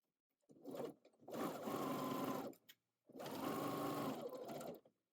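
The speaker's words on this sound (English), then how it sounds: "Pivot at the top of the bib and sew across the bib edge" Sewing machine stitching across the top edge of an apron bib after a pivot, one short burst followed by two longer steady runs of close mechanical whirring with brief pauses between them.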